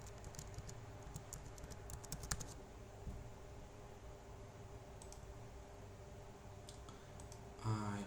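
A computer mouse clicks repeatedly during setup of a touch panel in configuration software, producing a series of faint, sharp clicks in quick bursts against a quiet background.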